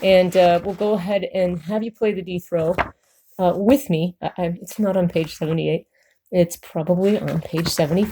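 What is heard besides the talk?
No everyday noises stand out.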